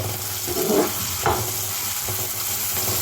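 Tomato and ivy gourd pieces frying in a pan, a steady close sizzle with a couple of brief stirring scrapes, no voices.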